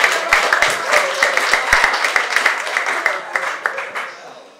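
Audience applause and scattered clapping for a stand-up comedian at a comedy club, the Metropolitan Room in NYC, a dense steady patter of hands that fades out near the end.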